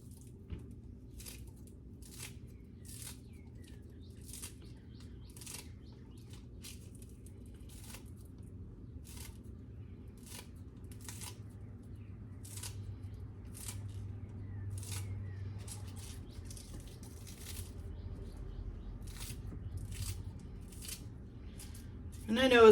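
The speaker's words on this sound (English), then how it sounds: "I'll just cut the green onions with the scissors" Scissors snip green onions packed tightly together, a steady series of short crisp cuts spaced about a second apart, close and fairly quiet over a low background hum.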